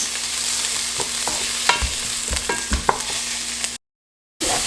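Ginger and garlic fry and get stirred in a pan for butter chicken, a close hissing sizzle punctuated by irregular scrapes and taps of a utensil, with a brief gap of silence near the end.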